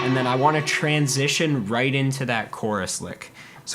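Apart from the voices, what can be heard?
None of the usual background noises is heard.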